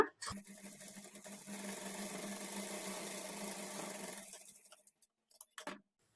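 A sewing machine stitching a blouse front runs a steady, faint whirring seam for about four seconds, then stops, followed by a few quiet short bursts of stitching.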